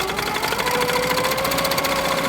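A Baby Lock Regent longarm quilting machine running at speed, a steady fast mechanical stitching whir with a rhythmic needle pulse and a faint tonal hum, close and continuous without talk.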